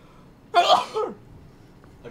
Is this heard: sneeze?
yes